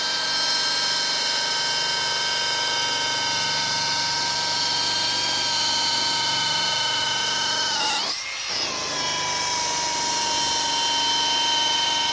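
A rotary buffer running at 2,500 RPM polishing dull aluminum, a loud, steady whining motor drone with layered tones that dips and bends briefly as the pad presses the metal, then resumes; no talking.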